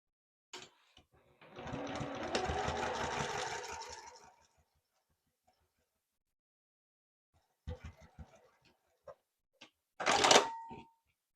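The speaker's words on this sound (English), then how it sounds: "I'm going to stitch seam to seam along that bottom edge" A sewing machine stitches a seam along the bottom edge of fabric panels for a small desktop caddy, one sustained close whirring run followed by short bursts and a final quick burst after a pause.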